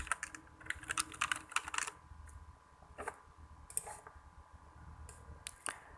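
Typing on a computer keyboard, close and crisp, with bursts of quick clicking keystrokes separated by short pauses and scattered single taps.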